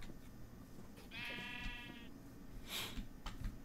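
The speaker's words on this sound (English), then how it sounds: "We got a farm. We got little sheepies." Sheep bleating in the Minecraft video game: one clear, wavering bleat in the middle over a busy background of game sounds, followed by a brighter burst of noise.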